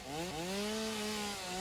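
A chainsaw in Satisfactory runs with a steady, rising and falling motor whine and strong harmonic buzz, loud and continuous, alone with no talk.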